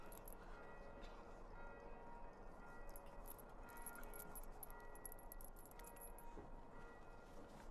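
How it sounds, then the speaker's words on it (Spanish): Church bells toll on a cold, snowy night, their ringing carried by the wind, a steady metallic shimmer of repeated strikes heard faintly at a distance over a continuous rushing background. "El tañido de las campanas de la iglesia, arrastrado por el viento nocturno"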